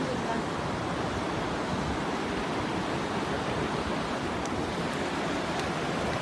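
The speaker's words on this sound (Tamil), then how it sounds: "கீழே ஆற்றுல தண்ணி போயிட்டு இருக்கு நல்லா ஃபோர்ஸா." Strong river water rushing below Thiruparappu Waterfall near Kanyakumari, a steady, dense roar of flowing water that fills the whole clip without any pause.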